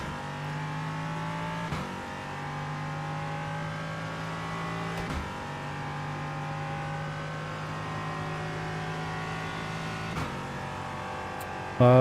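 A race car engine in the iRacing sim racing game drones steadily and loudly throughout, with harmonic engine tones holding and shifting at a few gear changes, close and continuous with no talking.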